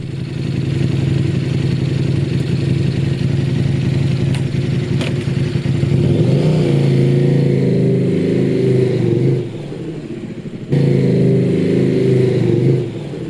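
A motorcycle is ridden past as captured by a Motowolf M3 dual-lens dash cam, a loud continuous engine roar with revving rises and gear changes, plus a brief drop midway.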